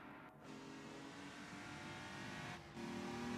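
A race car engine drones steadily on the Nordschleife track in Rennsport, a continuous mid-level hum that lifts slightly in pitch as the car accelerates toward the end, with no voices.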